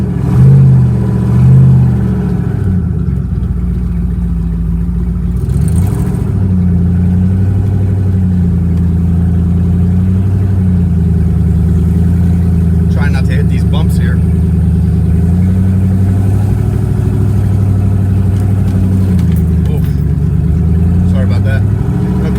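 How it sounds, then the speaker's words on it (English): Range Rover Sport with a twin-turbo LS V8 swap driving, a steady loud low engine drone that rises and falls with throttle throughout, with people talking over it. "So let's take it for a spin and see if it sounds good"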